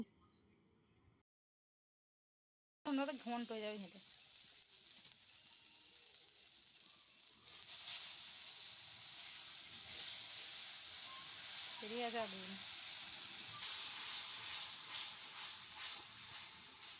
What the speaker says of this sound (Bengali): এবার আমি মশলাটায় অল্প পরিমাণ একটু জল দিয়ে দেব।